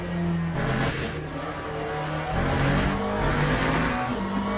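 A McLaren race car in the Le Mans Ultimate sim racing game runs at speed, a loud, steady engine drone with shifting pitch and tire noise, continuous and close, with no talk.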